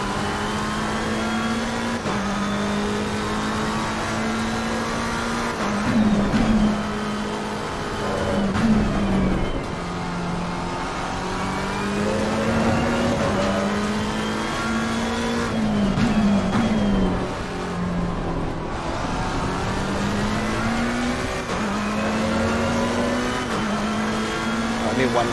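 Race car engines in a sim racing game at Imola, a near, loud droning engine note that rises and falls through gear changes, with brief tire squeals and talk over the top throughout.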